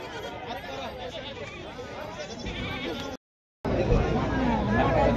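Goats bleat repeatedly amid the crowd and chatter of a busy goat market at Bodhegaon, with layered animal calls over steady human babble and a brief silent gap partway through.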